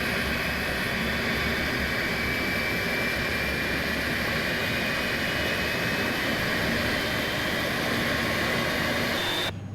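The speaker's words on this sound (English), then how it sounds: "I love that sound whenever fuel gets introduced to the engine." Jet engine spooling up as fuel is introduced during start on an iniBuilds A300 in a flight simulator game, a loud, steady roar that holds nearly ten seconds before cutting off abruptly at the end.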